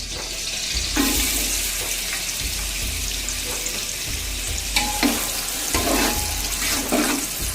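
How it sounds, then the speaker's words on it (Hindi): About 600 grams of sliced onions fry in two cups of oil in a pot, browning for beef yakhni pulao. The loud continuous sizzle is broken by repeated scrapes and clinks of stirring, with no talk. "प्याज हमारा फ्राई हो रहा है"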